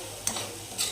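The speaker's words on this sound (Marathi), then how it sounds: "मसाला छान फ्राय होतोय आपला।" Masala frying in a pan with oil, a brief close scrape of stirring against a soft sizzle, two quick strokes in about a second.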